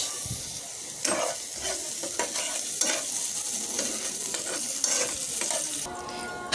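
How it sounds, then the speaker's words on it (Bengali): Onions sizzle in hot oil while a utensil stirs and scrapes the pan in irregular strokes, close and fairly quiet, with no talking. "প্যানের মধ্যে দিয়ে দিচ্ছি তেল দিয়ে দিচ্ছি পেঁয়াজ"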